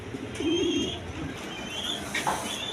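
Satin pigeons coo nearby, a low throaty phrase followed by softer calls and a few faint higher chirps over a quiet background.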